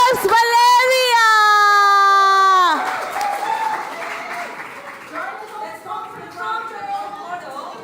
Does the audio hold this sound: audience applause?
yes